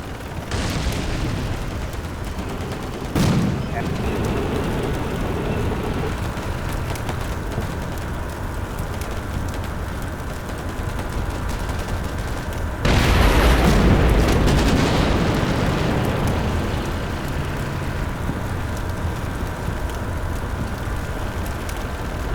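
Tank battle in the Combat Mission video game near a road by the Kiev Reservoir: a sharp gunshot-like crack early, then a heavy explosion with a long rumbling boom later, over a steady low ambient bed.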